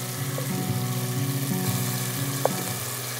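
Spices for a beef keema biryani sizzle steadily as they are sautéed with a little water, a continuous close frying hiss broken by a few stirring clinks and one sharp tap, with no talking.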